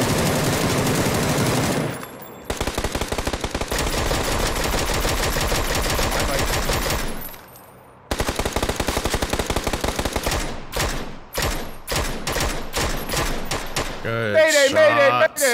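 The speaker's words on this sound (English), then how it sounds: "We're on a good spot to shoot these guys." Gunfire in the video game PUBG on the Miramar map: long sustained bursts of rapid automatic fire, loud and continuous, breaking into separate sharp shots near the end, with players talking over it.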